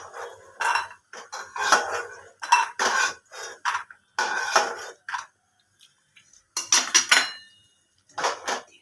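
Fried lentil dumplings are lifted out of a pan, with metal utensils clinking and scraping against the cookware in irregular bursts and short pauses between them.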